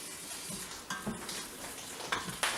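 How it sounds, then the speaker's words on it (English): Chicken curry ingredients sautéing in an Instant Pot for a yellow Thai coconut curry, a soft steady sizzle with a few light stirring scrapes, quiet and close, no talking. "So here we're just gonna saute this."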